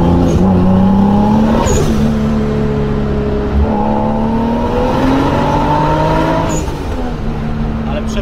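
A Mazda RX-8 fitted with a Toyota Supra engine accelerates hard, its loud, steady engine note rising and shifting through gears from close up, with brief tire noise and voices talking over it.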